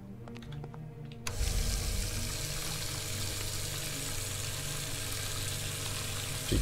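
Water in Lucius II: The Prophecy begins abruptly after a quiet moment, a steady full rushing like a tap running into a tank, continuing evenly at moderate loudness with no talking.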